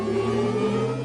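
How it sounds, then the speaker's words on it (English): Synthetic engine sound of an Audi R8 e-tron electric car as the gas pedal is pressed, a steady dense droning hum with layered tonal bands, loud and continuous with no voices. "These are elements of the Audi R8 e-tron sound"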